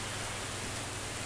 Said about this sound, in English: So I got the heavy rain and the heavy rain sound from the assets that we were given.